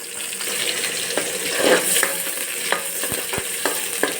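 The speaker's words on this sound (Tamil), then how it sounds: "இப்போ வந்து பட்டை கிராம்பு சோம்பு எல்லாம் போட்டிருக்கோம் பொறிஞ்ச உடனே வெங்காயம் போட்டுக்கலாம்" Cinnamon, cloves and fennel seeds, then onion, frying in hot oil in a pan give a close, steady sizzle with occasional stirring scrapes and clicks.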